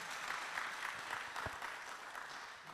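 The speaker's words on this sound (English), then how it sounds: "A hand of applause for our presenters once more" Audience at a church men's ministry medical camp applauding the presenting doctors, a steady wash of clapping at moderate distance with one sharper clap standing out.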